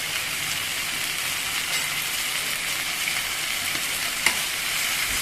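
Vegetables sizzle and fry steadily in a hot pan as chili is tossed in, a dense continuous hiss with one brief clatter of stirring near the end.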